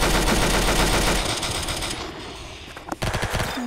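Rapid automatic gunfire in the Roblox shooter Arsenal, a dense loud burst of shots that thins out, followed by a few scattered pops.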